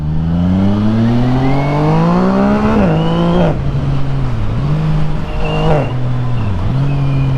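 A Yamaha MT-09 SP with a Tiger aftermarket exhaust revs up loudly close by, pitch climbing before a drop, followed by several sharp throttle blips and dips.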